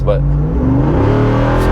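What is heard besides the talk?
Jeep Wrangler Rubicon 392 V8 engine revving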